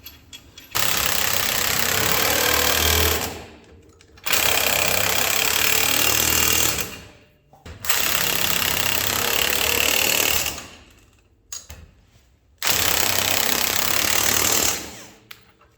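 Bolts on the front suspension of a 1940 Chevy coupe being run down with a loud, buzzing power tool in four sustained bursts of a few seconds each, with short gaps between them and no talking.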